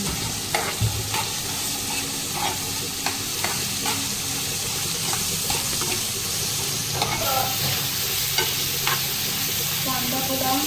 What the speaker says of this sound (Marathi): कांदा थोडा गोल्डन होईपर्यंत परतून घ्यायचा.